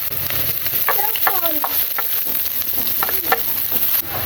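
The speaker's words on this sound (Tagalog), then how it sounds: "dyan na rin tayo magigisa. Silan tayo ng bawang, luya" Garlic and ginger sautéing in a pan of oil left over from frying catfish, loud continuous sizzle with stirring clatter and utensil scrapes against the pan.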